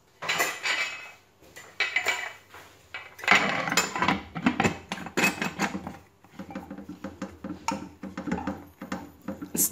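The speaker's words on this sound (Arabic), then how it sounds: "ودابا غنسدو على الكوكوت" Metal pressure cooker lid being fitted and closed over a pot of chickpeas for Moroccan harira, a series of close clanks, scrapes and knocks of metal on metal at an uneven rhythm.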